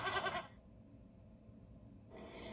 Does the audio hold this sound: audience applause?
no